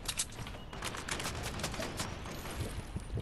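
Enemy bot gunfire in a shooter video game: rapid, continuous crackling volleys at moderate distance, fairly faint and dense, with sharp shot transients running throughout.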